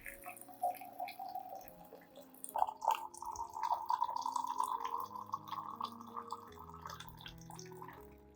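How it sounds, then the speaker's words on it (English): Hot water pours steadily into a clean glass cup, a continuous trickling stream with a brief pause near the start, close and fairly quiet, with no talking. "Pour 400 milliliters of hot water into the cup."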